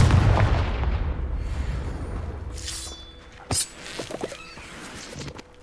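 A Confringo fire spell goes off in Hogwarts Legacy, a loud roaring blast that decays into rumbling debris, followed by a sharp crack and a few scattered crackling impacts.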